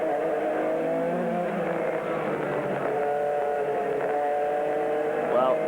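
BMW and Porsche GT race cars battling in a 2000 American Le Mans Series race, engines roaring loudly and continuously with shifting pitch as they run close together.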